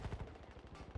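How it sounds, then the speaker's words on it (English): Rapid, fairly faint burst of P08 pistol gunshots from Battlefield, several quick cracks in close succession over about a second. "the P08 pistol do a lot of damage"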